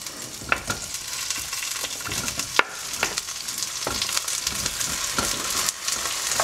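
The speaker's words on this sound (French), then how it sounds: "on va avoir des projections de graines de moutarde un petit peu partout" Mustard seeds crackle and splutter in hot oil, with cauliflower added for a curry. The sizzle is close and steady, broken by sharp popping bursts and stirring scrapes, and no one speaks.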